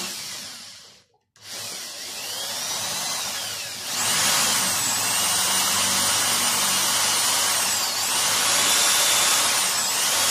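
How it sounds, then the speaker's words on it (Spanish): A power drill bores a hole in wood, a short pause and then a loud sustained whine with rising and falling pitch as the bit cuts, running for several seconds. "ahora le voy a hacer aquí un agujero en la madera"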